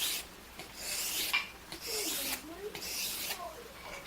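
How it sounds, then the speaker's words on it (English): A butcher knife is sharpened on a sharpening stone, repeated close rasping strokes in a steady back-and-forth rhythm, moderately faint. "So I got a few knives to sharpen here"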